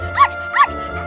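A dog gives two quick, close barks in a row, fairly loud, with a low hum underneath and no talk.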